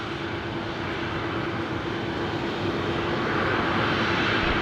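An airliner arriving from Canberra comes in to land on runway 19 left at Brisbane Airport at night, its engines producing a loud, steady roar that builds slightly as it nears.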